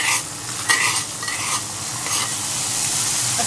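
Whole spices and aromatics (dried and green chilies, two kinds of mustard seed, cumin, fennel, nuts and a pinch of turmeric) sizzle steadily in hot oil in a pan, with close scraping stir strokes and no talking.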